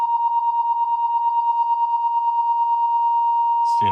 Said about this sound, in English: Little noise from my phone.